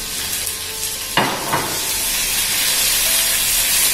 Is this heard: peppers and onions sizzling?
yes